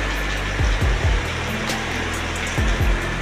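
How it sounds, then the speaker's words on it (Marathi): Heavy rain pours beside a river, a dense, steady roar of broadband hiss that fills the whole stretch, with a few soft low thumps underneath. "हे बघा जोरदार पाऊस चालू आहे."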